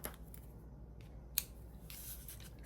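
Scissors snipping paper during a papercraft card project, a few quiet crisp cuts with one sharper snip in the middle, close and alone in a quiet room.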